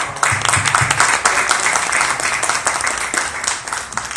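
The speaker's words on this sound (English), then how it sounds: "Let's get a round of applause." An audience claps and applauds steadily at a live interview event, a dense, even burst of hands from a crowd that holds through the whole stretch.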